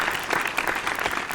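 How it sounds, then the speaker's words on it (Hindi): A crowd at a Hindi comic poetry recital claps together in a short, lively burst of applause, many hands at a fairly even loudness throughout. "दोनों हाथ ऊपर उठा के। तालियां एक बार।"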